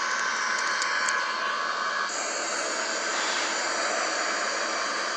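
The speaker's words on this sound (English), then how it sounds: "the British American pilot flying the Airbus A330-200" Airbus A330-200 jet engines in Microsoft Flight Simulator during descent toward landing make a continuous broadband roar with a steady hiss, even and sustained with no voices.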